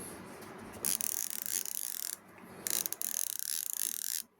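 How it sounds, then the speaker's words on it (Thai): Fast, buzzing ratchet clicks from a DEUKIO DC Plus fishing reel in two long bursts with a short pause between, close and fairly loud. "มีคลิกเสียงปลาหลากครับเพื่อน"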